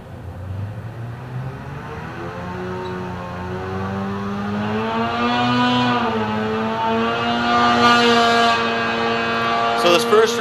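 A Polaris AXYS 850 snowmobile engine fitted with a Bikeman Full Velocity muffler runs on a dyno, a loud steady droning hum that rises gradually in pitch as it revs up, with a faint voice under it.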